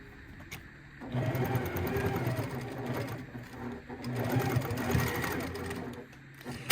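A sewing machine stitches fabric for a Monopoly house tissue box cover, running in a steady fast whirring burst of about five seconds, loud and close, with brief quiet pauses at the start and end.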